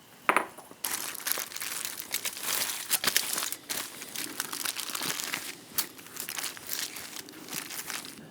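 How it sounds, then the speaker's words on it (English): Aluminium foil crinkles and crackles loudly up close as a smoked brisket cooked on a charcoal grill is wrapped, with dense irregular rustling and sharp crunches throughout. "I wrap them and hold them in foil in the beef towel like you just saw"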